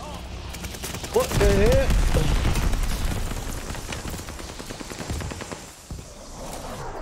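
Rapid bursts from an M1916 rifle in Call of Duty: Vanguard fire hard and close under a loud exclamation, then lighter follow-up shots trail off across the clip.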